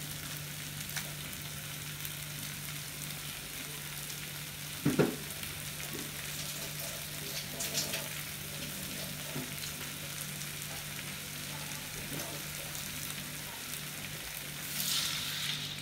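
Ground masala paste for Chettinad crab masala fries in a hot pan with a steady, even sizzle throughout, close up, broken by one brief clatter of stirring near the middle.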